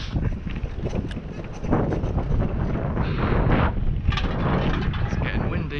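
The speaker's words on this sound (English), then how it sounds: "It's getting windy." Outdoors by street-side bins and old bikes, wind rumbles steadily against the microphone, a loud, low buffeting that strengthens midway and persists throughout.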